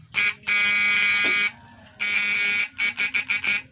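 A faulty electric fish shocker device buzzing loudly in bursts: one short, one long, a pause, another long burst, then a quick string of short pulses.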